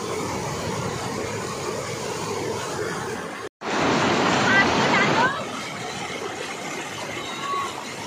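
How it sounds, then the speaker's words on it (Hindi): Continuous rushing of fast-flowing river water, loud and broadband, with a brief dropout and a louder surge midway; no speech. "बहुत ज़्यादा फ्लो है ना इस पानी का।"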